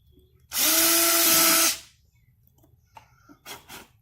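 A power drill bores a hole through the center of a plastic nursery pot for a swarm trap, one loud, steady whine lasting about a second, followed by faint handling noises and light clatter.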